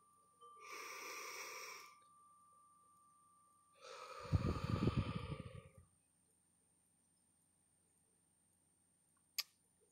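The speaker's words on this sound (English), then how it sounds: "We're breathing." One slow, deep breath close to the microphone: a long airy inhale, a pause, then a heavier, rougher exhale, followed by quiet and a single sharp click, with no talking.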